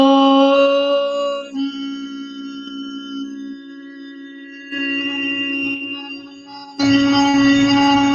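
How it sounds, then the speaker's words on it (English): Long sustained Om chants during a guided meditation, several held tones in a row, each a steady resonant hum with rich overtones, with softer breathy pauses between them. "And you're chanting the universal sound. Om."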